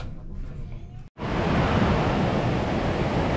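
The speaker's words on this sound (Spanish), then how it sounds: "ahorita ya andamos acá en lo que es la orilla del mar" Sea waves breaking on the shore at Barra de Santiago, a broad roaring surf wash that swells up loud and steady after a brief quiet gap, close and alone with no talk.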